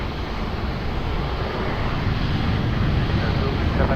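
An airplane takes off from runway 20 at Lisbon Airport, its engines a steady, loud, broad roar that swells slightly over a few seconds.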